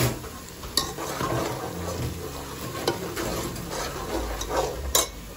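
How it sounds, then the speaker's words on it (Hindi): Onions frying in a pan for jinga (prawn) biryani, a soft continuous sizzle with occasional scraping stirs and clinks of a utensil against the pan, fairly quiet and close, no talking. "अभी हम ओनियन डाल दी है और इसको ना हम गोल्डन ब्राउन कलर आएगा"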